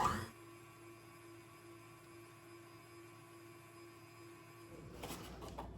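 An electric stand mixer running at speed 2 in a universal mixing bowl, beating healthier muffin batter made from cake mix, holds a steady motor whine for several seconds before the sound shifts and a burst of handling noise follows.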